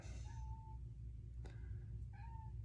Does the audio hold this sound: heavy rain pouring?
no